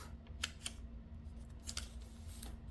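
Scissors snip through a diamond painting canvas in a few quick, close, crisp cuts over a quiet background.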